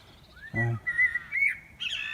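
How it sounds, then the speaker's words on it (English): A male blackbird sings a short, fluting phrase from a hedge top outdoors, clear and fairly close, with a brief low honk-like note near the start and quiet background. "there's a male blackbird on top of the hedge"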